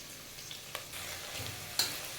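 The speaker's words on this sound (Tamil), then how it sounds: "வெங்காயம் நல்லா வதங்கணும்." Sliced medium onions sauté in fried masala with a quiet, steady sizzle, broken by a few soft stirring scrapes and one sharper clink near the end.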